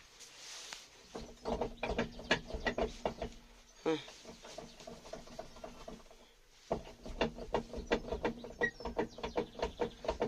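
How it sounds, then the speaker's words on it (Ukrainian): Tractor autopilot steering motor clicking and ratcheting as the steering wheel turns, a quick run of close mechanical ticks that stops briefly and then resumes. "Ця підрулька, коли крутиться, воно всякі щолчки"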